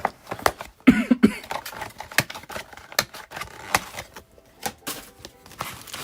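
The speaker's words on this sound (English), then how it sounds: "I'm coughing. It's crazy." A man coughs a few times in a quick burst, close by, amid scattered tapping and handling noises in a quiet trading card shop.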